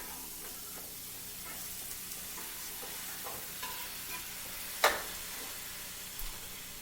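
Chopped canned whole tomatoes going into a veggie stew pot give a steady soft sizzle and frying hiss with a few stirring scrapes and one sharp clack partway through.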